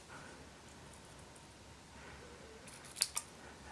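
Scissors snip paper while cutting out a shape for a handmade card, two quick crisp snips close by near the end after a quiet stretch of faint rustling.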